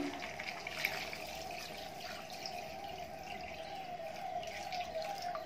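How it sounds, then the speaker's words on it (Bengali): Water is poured into a pot of chicken curry, giving a steady, close trickle and splash with a faint sustained tone, continuous for about five seconds at moderate loudness. "এবার আমি দিয়ে দেবো পরিমাণ মতো জল।"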